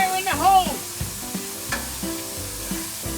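Bass frying in too much oil in a pan, a low steady sizzle with intermittent stirring clatter; a voice speaks at the start.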